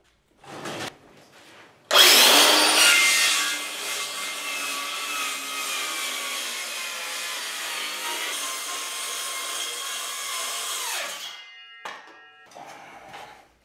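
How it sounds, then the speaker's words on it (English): Power saw cutting a sheet of plywood for a hanging garage shelf, starting abruptly at full loudness and whining steadily through the cut for about nine seconds before winding down, with a few brief knocks after. "It's time to start cutting the plywood"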